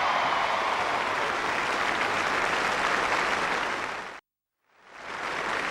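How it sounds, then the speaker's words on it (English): A large outdoor crowd at a 1982 It's a Knockout heat in Melton Mowbray applauds and cheers in a dense, steady roar that cuts off abruptly, then fades back in after a short silence. "Give him a big round of applause."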